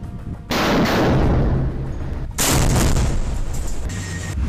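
Gunfire and heavy blasts from an attack on armoured IDF Merkava tanks in Rafah, Gaza: loud bursts of shots and booming explosions crashing in repeatedly, dense and sustained with short lulls between.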